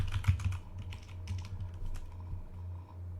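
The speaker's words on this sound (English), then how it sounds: "You just type into CoinGecko or CoinMarketCap." Quick keystrokes clatter on a computer keyboard, mostly in a short burst at the start, then a few scattered taps. The typing is quiet and close, over a low background hum.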